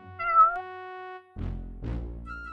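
A cartoon cat in the adventure game Nelly Cootalot gives a clear tonal meow, then a rustling shuffle of game sound effects follows, with no one talking.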